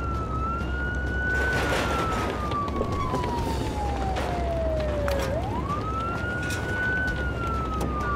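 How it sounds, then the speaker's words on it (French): Fire engine sirens from a Playmobil animation wail in a clear rising and falling sweep, dipping low around the middle before climbing back, loud and steady over a dense background of traffic-like noise. "il y a plein de voitures de pompiers"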